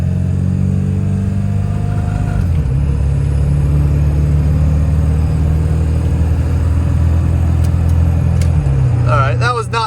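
A 1996 Ford F-250 pickup with the 7.3L Power Stroke diesel pulls away, its loud, gravelly engine rising in pitch, dropping at a shift, then climbing again, steady and close throughout.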